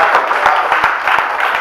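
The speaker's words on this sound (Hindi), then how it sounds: "तालियां बजाते रहेंगे।" Audience members at a Hindi poetry recital clap in a brief burst of applause, a lively patter of many hands that continues evenly over a couple of seconds.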